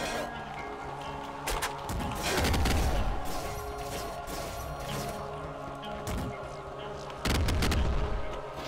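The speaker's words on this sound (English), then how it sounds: "I do not like this cluster launcher" Cluster launcher fire in the video game Nuclear Throne, heavy booming blasts with scattered secondary explosions and thuds over a constant game soundtrack, several loud bursts spaced unevenly, while a player talks over the action.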